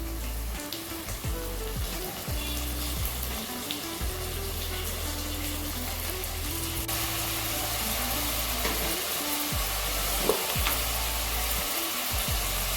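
Two medium tomatoes, finely chopped, sauté in a pan for an empty salna, giving a steady, even sizzling hiss that continues without pause over a low background hum.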